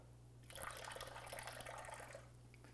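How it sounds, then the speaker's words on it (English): A few drops of diluted soda fall into water, making soft, faint dripping and trickling sounds that run for about two seconds against a quiet background hum. "we just take a little bit of diluted soda, a couple drops of it"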